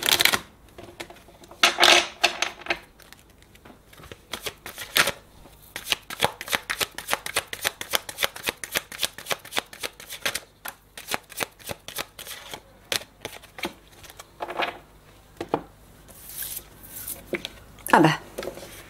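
Tarot cards being shuffled for a reading: repeated bursts of rapid papery riffling and soft slaps, close and fairly quiet, coming in irregular clusters across the whole stretch, with occasional brief sounds from a person.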